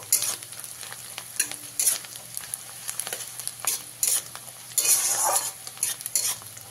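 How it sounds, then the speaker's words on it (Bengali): Chopped green chilli being stirred into frying onions in a pan while cooking water spinach curry, with steady sizzle under repeated scraping strokes of a spatula and occasional clinks of utensil on metal. "কাঁচা লঙ্কাটা দিয়ে একটু ভালো করে মিশিয়ে নেব"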